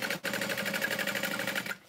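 A sewing machine stitches a half-inch seam along the top edge of a small fabric bag. It gives a steady, fast, close mechanical whir of the needle running for about two seconds, then stops, with no talking.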